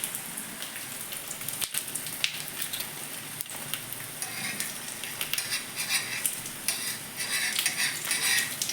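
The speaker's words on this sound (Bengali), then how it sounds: "এই দেখো বন্ধুরা, গোলটাই আগে ভেজে নিচ্ছি আমি।" A round roti fries in white oil on a very hot tawa, giving a continuous soft crackling sizzle with scattered pops, steady and fairly quiet, with no talking.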